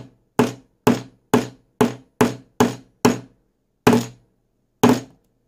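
A hammer strikes a phone coated with a liquid nano screen protector: nine sharp, loud knocks, the first seven quick and evenly spaced, the last two slower, each ringing briefly before silence.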